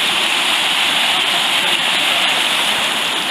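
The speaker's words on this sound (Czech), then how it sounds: "Takže právě teď jsme překonali tady tenhle vodopádek" A small waterfall on a creek roars in a loud, steady rush of falling water close by, constant throughout with no pauses.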